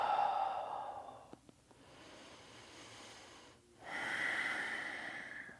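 A slow, audible exhale during a home yoga flow, soft breathy rushes of air with a quiet pause between them, close and faint, with no talking.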